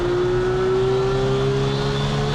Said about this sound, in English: You've got to get your car pointed the right way so you can get on the power